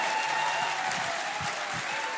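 A church congregation at a Sunday school recognition day service bursts into sustained applause, dense and fairly close, holding steady with a few louder claps standing out near the end.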